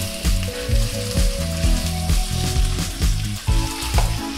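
Marinated chicken sautéing in ginger garlic paste for a restaurant-style chicken Mughlai: a loud, continuous sizzle heard under prominent background music.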